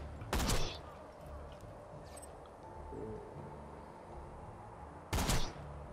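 Two loud gunshots from Tiny Tina's Wonderlands, about five seconds apart, each a sharp near crack with a brief tail. A faint game ambience with quiet scattered effects sits in the quiet gap between them.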